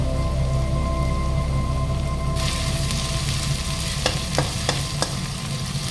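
Chopped onion and garlic fry in hot oil for a chicken liver and gizzard masala, a steady crackling sizzle that grows louder midway, with a few sharp scrapes of a spoon stirring the pan.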